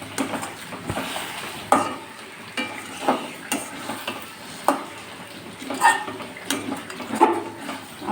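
Spice powder is stirred into a raw mango jelly pickle in a pan. A spoon scrapes and knocks against the pot in an uneven series of close, fairly loud strokes over a faint sizzle, and no one speaks.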